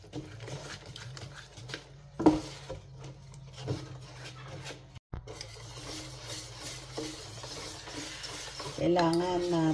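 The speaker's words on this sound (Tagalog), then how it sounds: "Haluin din natin mabuti." Ground glutinous rice and coconut milk are stirred in a pot, a steady close scraping and swishing with a few louder knocks of the utensil against the pot.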